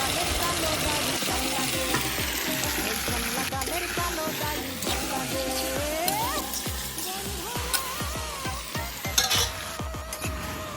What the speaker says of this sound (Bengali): এরপর আমি দিয়ে দিব আধা ঘন্টা ম্যারিনেট করে রাখা মাটনটাকে